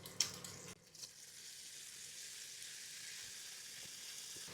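Meat sizzles steadily in a hot pan with soy sauce, a soft continuous hiss after a brief clatter of stirring at the start.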